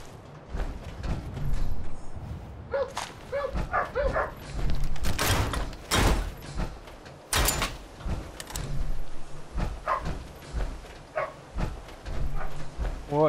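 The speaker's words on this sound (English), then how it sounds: "Ooh, dog." A dog in a video game barks several times in short sharp bursts mixed with other clattering game sounds, while a player talks intermittently over the action.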